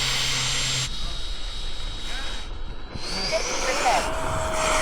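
A model airplane motor runs at full reverse thrust at a flying field, giving a steady airy whine and hiss with a rising tonal pitch, close and continuous throughout.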